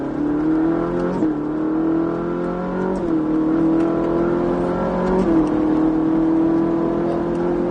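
Ferrari 458 Italia accelerating hard on a race circuit, engine note climbing steadily through three upshifts with brief dips between, loud and close from the cabin, no talk.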